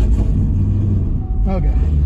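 A 1200hp turbocharged Camaro engine rumbles loudly and steadily up close while people talk over it, with no clear rise in revs.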